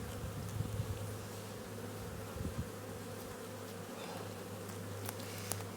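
Honeybees buzzing during a hive inspection: a faint, steady drone of many bees with a constant hum and occasional small knocks.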